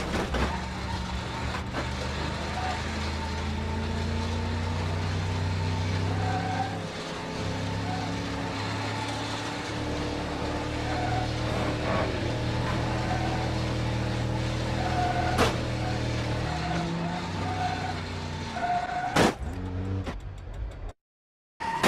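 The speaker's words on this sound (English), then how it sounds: "it makes the exact same car sound from the game" A car engine in the game Garry's Mod hums steadily, rising and falling in pitch as it revs and shifts, with a sharp click near the end before it cuts out.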